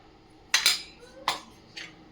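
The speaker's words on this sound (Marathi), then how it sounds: "मस्त मिक्स करून घेऊयात" A spoon clinks against a pot three times, sharp and close, as paste is stirred into boiling milk for malai kulfi.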